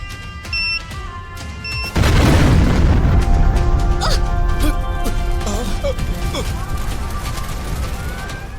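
Car bomb detonating after a short quiet lead-in, a sudden heavy boom followed by a long crackling, clattering roar of debris and burning that fades slowly.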